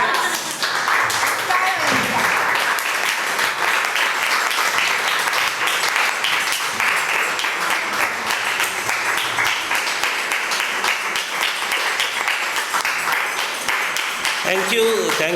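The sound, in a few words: audience applause, standing ovation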